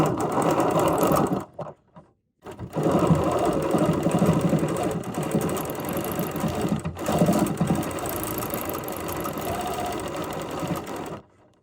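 Serger sewing machine stitching yarn cording along flower petal lines, a steady loud whirring run that pauses briefly around two seconds, then continues nearly unbroken to the end.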